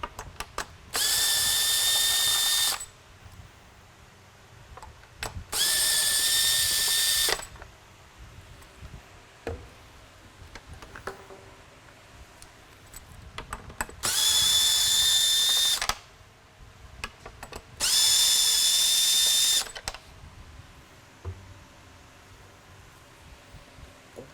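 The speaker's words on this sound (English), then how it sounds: "Screws on the ends, on the bottom, are going to be the first thing to get loosened and removed." Power screwdriver loosening and backing out screws from the ends and underside of a Liberty II mini lightbar, four separate whirring bursts of about two seconds each with quiet pauses and faint handling clicks between.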